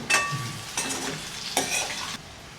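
Pieces of dhokla fry in hot oil, and three distinct stirring sweeps scrape the pan over a constant crackling sizzle, close and fairly loud, with no one speaking.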